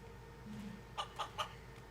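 A chicken in the video game Tenchu Z gives three quick, faint clucks in a row over a low steady background hum.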